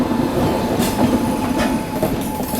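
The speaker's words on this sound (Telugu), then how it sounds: "నీలగిరి ఎక్స్ప్రెస్ అండి, మెట్టుపాల్యం టు చెన్నై సెంట్రల్." The Nilgiri Express from Mettupalayam to Chennai Central rolls past a station platform, a loud, steady rumble of coaches with rhythmic wheel clatter on the rails throughout.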